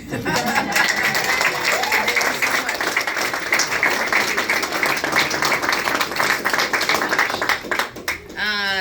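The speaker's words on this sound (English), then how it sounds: "Let's give a round of applause to Jamal and Chairman Leticia" Sustained applause from an audience, loud and steady for several seconds, with cheering voices mixed in.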